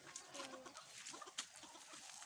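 A hen on a farm in Uttaradit, Thailand clucks in soft, short, uneven bursts close by, quiet overall, with scattered other small farmyard noises around it.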